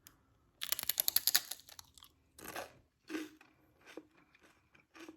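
Baked sweet potato chips crunch loudly up close, a rapid burst of crisp bites followed by several slower, separate chews with quiet gaps between them.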